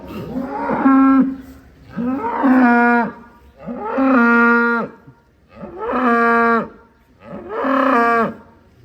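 Five loud, drawn-out moos from prize-bred show cattle calves, each call rising and falling with strong harmonics and short pauses between, close by and with no talking.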